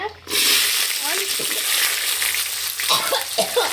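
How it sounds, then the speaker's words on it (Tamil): Sliced onions hit hot oil already spiced with fennel and fenugreek, giving a bright, continuous sizzle and crackle close by that swells on entry and stays lively throughout. "வெந்தயம் போட்டதுக்கப்புறம் ஆனியன்ஸ் போட்டுக்கோங்க."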